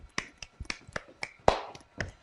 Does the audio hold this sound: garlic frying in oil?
no